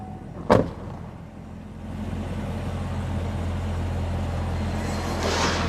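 Toyota Supra eased into drive and creeping forward, a steady low engine drone building gradually after a single sharp click near the start, with airy hiss rising toward the end.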